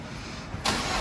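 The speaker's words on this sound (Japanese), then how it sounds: "ちょっとエンジン音を聞かせていただきたいんですけども" A BMW MINI Clubman's engine starts up: steady broadband noise gives way after about two thirds of a second to a louder, fuller engine note that holds to the end, close and alone without talk.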